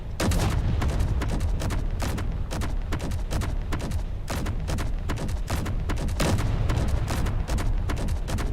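Ship cannons in Space Engineers fire a dense, relentless barrage of booming shots, overlapping blasts keeping the volume high and steady from start to finish, with no talking.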